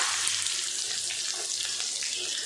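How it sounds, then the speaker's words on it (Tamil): A steady, hissing sizzle of finely chopped shallots frying in hot oil, continuous and close, with faint crackles and no voices. "எண்ணெய் சூடாயிட்டு பொடியாக நறுக்கின 20 சின்ன வெங்காயம் சேர்த்துக்கலாம்"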